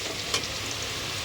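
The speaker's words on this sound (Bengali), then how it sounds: "আমার আলুটা ভাজা হয়ে গেছে" Potatoes frying in a pan give off a steady, even sizzling hiss, heard on its own for a brief moment.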